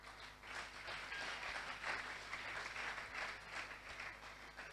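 A church congregation applauds steadily during a Sunday worship service, a dense, even wash of many hands clapping at moderate distance that keeps up without a break.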